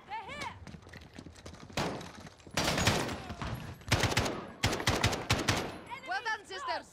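Gunfire in Call of Duty: Modern Warfare: bursts of rapid automatic shots and single cracks come in loud clusters, mixed with game dialogue and voices between the volleys.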